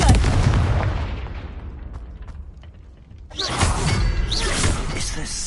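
A Confringo fire spell explodes in a video game, a loud booming blast that decays over a few seconds before a second burst of crackling, debris-like noise erupts.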